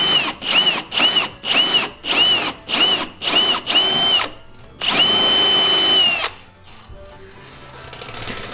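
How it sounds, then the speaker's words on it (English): A power drill whines in eight short, evenly spaced bursts while drilling a hole in the body of a Ford Mustang, then runs in one longer sustained burst before stopping, loud and close. "we're just drilling a hole"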